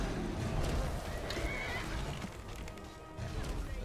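Horses whinny and snort in the fantasy game Skyrim, loud and close, with a hoof clatter mixed in over a steady wash of game noise for a few seconds.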